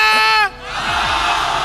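Esports crowd at a Malaysian mobile-game league match cheering loudly, a sustained roar of shouts and whoops, with an amplified voice in the first half second before it.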